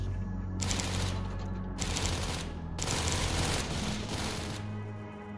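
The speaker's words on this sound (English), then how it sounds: "Where did that gunfire come from?" Gunfire in a Roblox game arrives in three long bursts of rapid automatic shots, each lasting about a second, separated by short gaps over a low background hum, fairly loud and with no talking.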